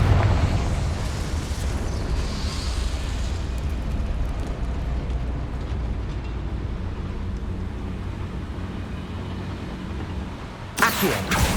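A Confringo spell explosion in the Hogwarts Legacy video game gives a loud, sustained rumbling blast with a deep low roar, then a sharp burst of noise near the end.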